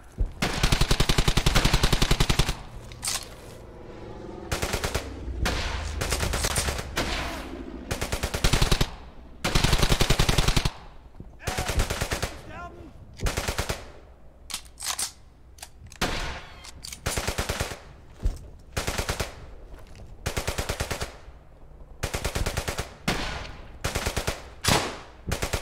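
Machine gun fire roars through a Brothers in Arms: Hell's Highway firefight, with loud, sustained automatic bursts from rifles and machine guns. Short pauses break the bursts, and the shooting comes back again and again, close and dominant.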